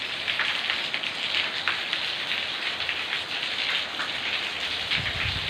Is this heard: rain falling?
yes